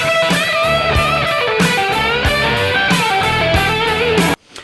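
An electric guitar plays a quick, distorted lead phrase from the solo, with a steady run of picked notes and bends, loud and close, ending abruptly in a short cutoff.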